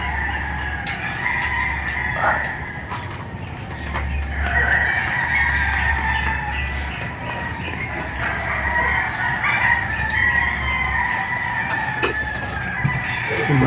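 A rooster crows repeatedly amid other bird calls outdoors on a rural Philippine property with fruiting trees, the calls rising over a steady low hum and background ambience.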